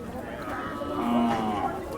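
Jersey bulls at a cattle market give a low, drawn-out moo amid steady crowd noise, with voices talking in the background.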